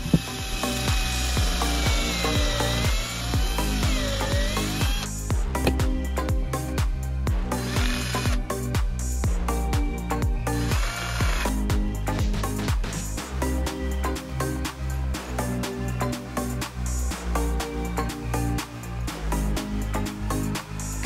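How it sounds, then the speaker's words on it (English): A power drill whines continuously while boring a hole through metal, the motor pitch wavering as pressure changes, loud and close throughout. "I think I'll drill the hole through"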